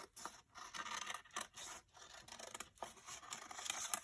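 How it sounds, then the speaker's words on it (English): Scissors snip through paper in quick, rhythmic cuts, each a close, crisp crunch, repeated about a dozen times while an imperfect circle is cut out, with no speech. "I'm just going to cut an imperfect circle out of this"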